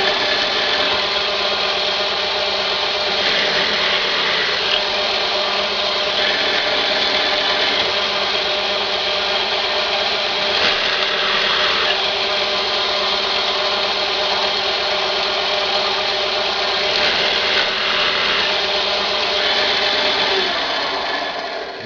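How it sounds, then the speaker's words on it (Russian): Steady, continuous grinding of a drill boring holes into a wooden facade panel, running without pause and fairly loud, with slight shifts in pitch as the bit bites. "и сверлим примерно, где у нас будут розетки"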